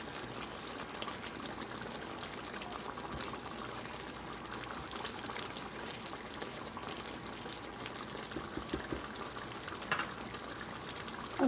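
Paneer cubes being added into simmering gravy for shahi paneer, giving a soft, steady bubbling and sizzling hiss that runs quietly and evenly throughout with no talk.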